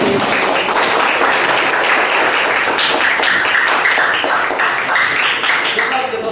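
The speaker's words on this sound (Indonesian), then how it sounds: "Kita aplaus dulu untuk kita sendiri." A classroom of junior high students applauds themselves at the end of a lesson on generative AI, giving a dense, steady run of many hands clapping that continues loudly throughout.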